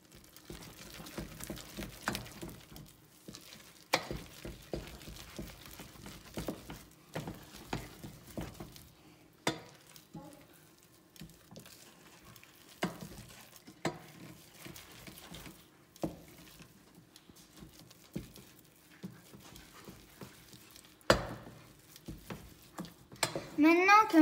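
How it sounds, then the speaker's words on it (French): Flour is stirred into choux pastry dough in a pan: quiet, irregular scrapes and soft knocks of a spoon against the pan, repeating throughout, with faint voices now and then. "Et on met directement la farine et on remue."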